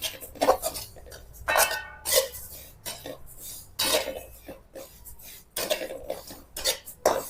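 Black masala spices roasting in a pan are stirred with a utensil, making repeated scraping and clinking bursts in an irregular rhythm, close and fairly loud, with a few coughs between strokes.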